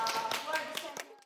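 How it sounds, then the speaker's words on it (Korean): Applause and clapping from a small group during a Korean dance-crew interview, a short burst of claps that fades out within about a second. "박수!"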